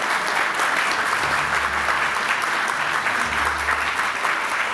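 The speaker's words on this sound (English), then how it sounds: "please give a warm round of applause to our ministers and our speakers here this morning" Warm audience applause at a Japan-Africa economic forum plenary session, steady dense clapping from a large room that continues evenly throughout, with a low hum underneath.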